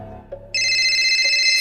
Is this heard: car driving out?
no